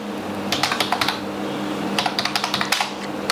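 Fingers type on a computer keyboard in quick clusters of crisp, close keystrokes, two bursts separated by a brief pause, with no talking.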